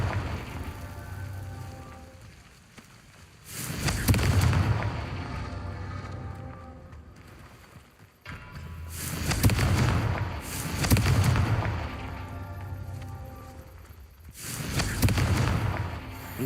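Confringo spell explosions in Hogwarts Legacy: four heavy, booming blasts spaced several seconds apart, each with a rumbling, crackling tail, over a hissing, rain-like background.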